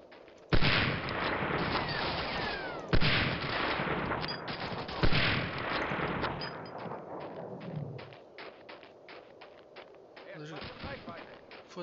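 Sniper and gunfire shots in the World War II shooter Medal of Honor Allied Assault: several sharp, loud cracks followed by a rumbling battle din. A player's voice comes in briefly.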